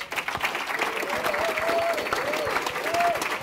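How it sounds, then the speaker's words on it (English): A live audience applauds steadily at an E3 Q&A session for Tom Clancy's The Division, dense clapping filling the room at moderate loudness while a voice rings faintly through the crowd noise. "Round of applause."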